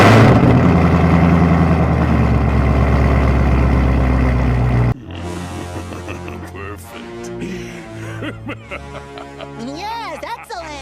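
A C6 Corvette with longtube headers fitted runs loud and close, with a steady heavy engine roar that drops abruptly to a rougher, lumpy idle with small revs and faint background voices.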